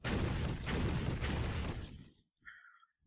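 Shooting attack effect in the Hearthstone card game: a loud, dense blast that lasts about two seconds and then stops sharply, followed by a short, faint tonal tail.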